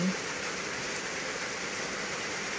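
Steady rain falls over flooded rice paddies where people are transplanting seedlings, a dense, even hiss of drops holding at a constant level throughout with no breaks.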